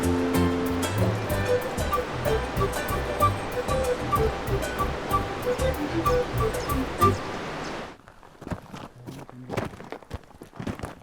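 Rushing river water pours steadily at a rocky mountain river crossing on the trek toward Inca ruins, a loud broadband roar with footsteps, until it drops away abruptly near the end, leaving quieter scattered sounds.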